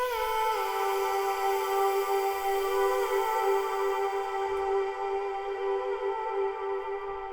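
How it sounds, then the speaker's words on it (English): A sustained falsetto voice run through an upward formant shift effect for a more feminine tone, holding steady, bright tones alone for several seconds with a slight dip in pitch early on. "I'll whack the formant shift up, so that gives it more of a feminine sound."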